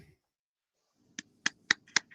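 A slow clap of four or five separate hand claps, spaced about a quarter second apart, moderately close and alone with no talking.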